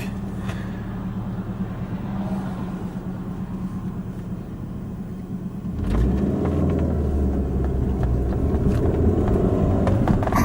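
A car driving through quiet Sunday-morning city streets, a steady engine and road rumble that grows louder and rougher partway through, with no talking.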